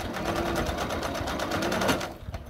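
Sewing machine stitching fabric for a small Christmas gift, a loud, close, fast rhythmic whirr running steadily, then easing off near the end.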